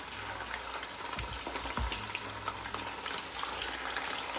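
Onions frying toward golden brown in a pot for Delhi nihari, a dense continuous sizzle up close with a few low stirring thumps, no voices.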